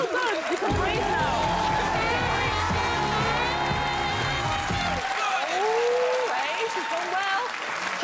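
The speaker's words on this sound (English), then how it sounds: "Give a huge round of applause, please, to Hannah and Marti." Loud studio audience applause and cheering after a televised duet performance, a continuous roar of clapping with music still playing underneath and a presenter's voice speaking over it.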